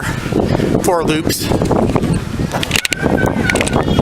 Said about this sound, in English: it's a little windy today too, so I don't know what background noise is going to happen here